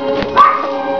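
A puppy gives a single short, high yip close by, with a faint whimpering tone trailing after it over a quiet room.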